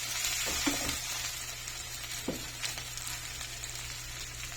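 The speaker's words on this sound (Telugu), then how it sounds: "టమాటా ముక్కలు వేసేస్తున్నాను." Tomato pieces sizzling in a hot pan for tomato curry, a steady close frying hiss with occasional soft stirring scrapes and no speech.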